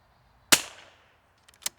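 A single sharp rifle shot fired at a target 150 yards away using a new lot of ammunition, loud and close with a short decaying tail, followed by a faint distant impact crack.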